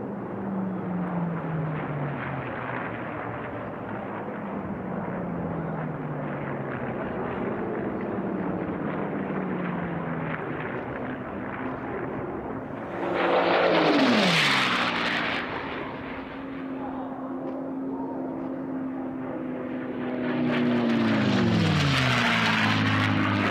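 P-51 Mustang D model racers at the Reno National Championship Air Races, including the red, white and blue Miss America, drone steadily, then two loud close passes sweep by with falling engine pitch.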